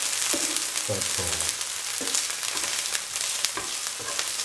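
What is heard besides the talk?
ginger, garlic and onions frying in a pan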